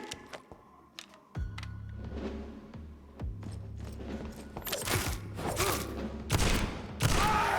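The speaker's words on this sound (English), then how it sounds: "Whoops, I didn't mean to shoot there" Gunfire in the vampire game Vampyr: several sharp, loud shots and impacts burst out at intervals among clicking and clattering game noises, with the heaviest reports near the end.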